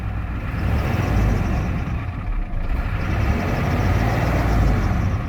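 A 1993 Ford F350 ramp truck with a 7.3L diesel, five-speed and 175k miles, runs with a steady low rumble close by, with no voices heard.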